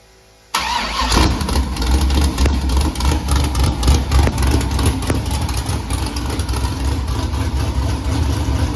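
A car engine cranks and fires up after a brief quiet start, then settles into a steady, loud idle close by with slight revving surges throughout.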